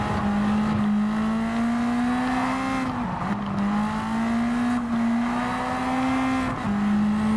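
Turbocharged race car engine in Gran Turismo 7 holding a steady droning tone on track, pitch dipping briefly at gear shifts and lifts before climbing again, loud and continuous with no talk.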